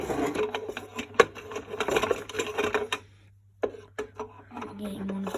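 The drum of a rare toy Hoover washing machine turns with a small motor whirring and clattering in uneven bursts, pausing partway before restarting, while someone talks nearby.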